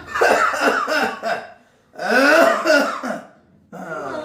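Several harsh bursts like coughing or throat clearing, in two clusters with a pause between, followed by a shorter burst; close and fairly loud.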